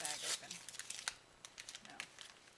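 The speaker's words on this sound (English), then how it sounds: "And I'm not getting this bag open." A plastic bag holding pearl trim is crinkled and tugged at close range, giving bursts of crackly rustling under a voice talking.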